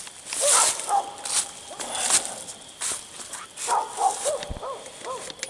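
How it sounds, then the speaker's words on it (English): Dogs barking out on a rural road, several scattered woofs at varying distance mixed with footsteps and rustling outdoors, no voices in between. "Now we got dogs coming down the road, so I'm gonna get on out of here because they ain't gonna do nothing but bark."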